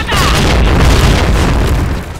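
A grenade bursts in the online shooter Point Blank, a loud, close boom with a dense roar that fills the moment and fades off at the end.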